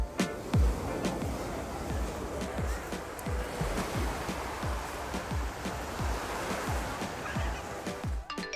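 Ocean surf rolls and breaks steadily on a Rio de Janeiro beach, close and continuous, with repeated wave crashes and some wind buffeting.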